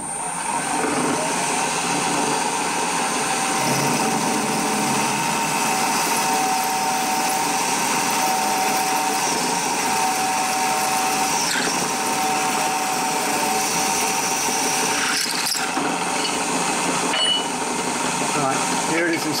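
A drill bit, 11/32 inch, is used to drill aluminium, giving a steady whining motor drone with gritty cutting noise that runs continuously, with a person talking over it.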